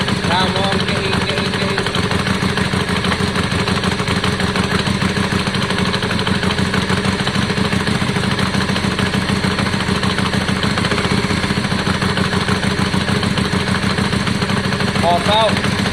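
A Yamaha Virago 535 motorcycle engine idles steadily after carburetor cleaning and re-jetting, a continuous mid-pitched throb with no rise in revs, close and loud, with people talking over it.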